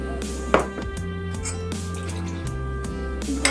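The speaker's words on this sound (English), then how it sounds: "and the water." Water is poured into a bowl of soy sauce and vinegar for a sweet and sour sauce, a soft trickling splash with a small clink, set over steady background music.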